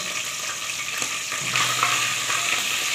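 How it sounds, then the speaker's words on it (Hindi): Spices roasting in hot ghee on a stove, a continuous close sizzle and crackle that grows slightly louder partway through, with faint stirring scrapes. "घी मैंने चूल्हे पे रख दिया, गर्म हो चुका है। तो इसमें मैं अब ये मसाले शामिल करूँगी। इसको थोड़ा सा हमें रोस्ट करना है।"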